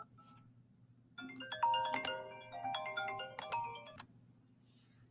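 A mobile phone ringtone from an incoming call plays a short bright electronic melody of several notes, moderately loud, in an otherwise quiet room.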